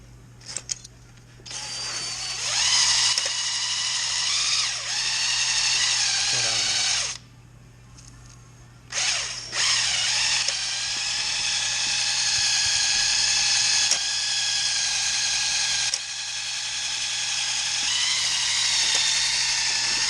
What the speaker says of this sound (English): So let's go ahead and hone this old girl.